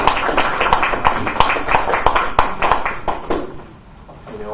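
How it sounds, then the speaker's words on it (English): A church congregation gives a round of hand-clapping in praise during a morning service, loud and close with dense overlapping claps that fade out near the end. "Let's give God just a hand clap of praise this morning."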